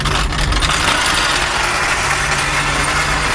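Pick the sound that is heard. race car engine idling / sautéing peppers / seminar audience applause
race car engine idling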